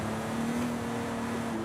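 A TVR Griffith with a Ford Coyote-based engine tuned by Cosworth drones in Forza Horizon 5, giving a steady, continuous hum. The sound is fairly faint and has no clear rises in revs.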